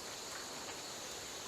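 Rain patters steadily on a greenhouse roof, a faint, even hiss of drops with no breaks, heard alone.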